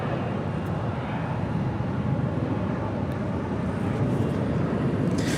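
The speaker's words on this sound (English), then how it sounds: "Looking like a north side departure for that Delta A350" A Delta Airbus A350 jet departing LAX to the north, its engine roar a broad, continuous rumble heard from a distance at moderate loudness.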